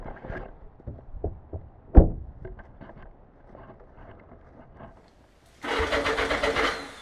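A motorcycle engine cranking with a few clicks and thumps, a brief quiet pause, then catching into a loud, steady idle.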